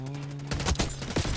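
Rapid bursts of gunfire from a Call of Duty match, loud and close, firing in uneven volleys after a brief steady tone.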